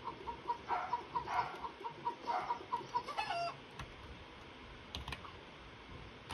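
In the Bear Simulator video game, a chicken clucks in a quick rhythmic series for about three seconds, close and moderately loud, and then quiet game ambience follows.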